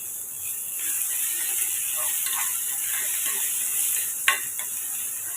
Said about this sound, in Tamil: பீன்ஸையும் சேர்த்து கலந்து விட்டுக்குங்க.